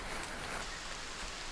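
Steady rain falling during a hike in New Zealand, a soft, even hiss that fills the clip at a moderate distance with no voices.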